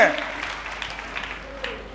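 A church congregation at a Sunday service claps together, a brief wash of applause that starts strong and fades quickly, with a voice speaking over it.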